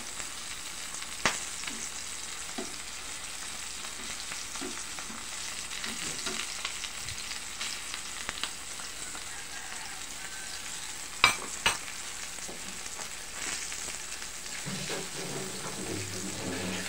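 Dried salted fish (tuyo) frying in hot oil in a pan, a steady close crackling sizzle throughout with a couple of brief sharp clicks and a soft clatter near the end as the fish is turned.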